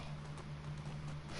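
Horse hooves in a video game, a steady galloping clip-clop running continuously at moderate level over a constant low hum, with no talking.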